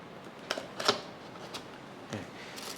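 A breast pump package is unpacked with faint, sparse rustles and crisp plastic or paper crinkles, a few short taps spread across a quiet room.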